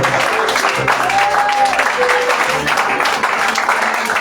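A church congregation gives the Lord an ovation during worship with sustained applause and cheering, a dense, continuous wash of clapping from a large crowd, with voices calling out through it.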